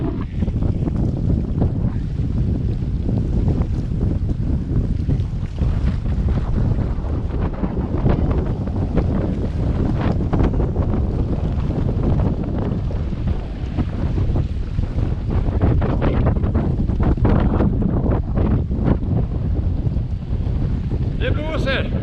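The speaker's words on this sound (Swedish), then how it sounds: "Det blåser." Strong wind buffets the microphone continuously while sea kayaking off the Swedish coast, a loud roaring gusty rush mixed with water sounds around the boat.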